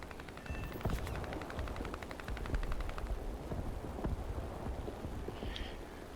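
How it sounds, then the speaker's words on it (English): Rapid machine-gun fire from an enemy plane in the War Thunder air combat game, a fast rattling burst of shots over a steady engine drone, loud and continuous for several seconds. "Now he's shooting at me."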